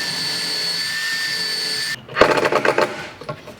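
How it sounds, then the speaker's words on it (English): A power drill whines steadily while boring holes for a drawer handle, then stops abruptly, followed by a burst of clattering and knocking on wood. "finish drilling out the holes for the handle"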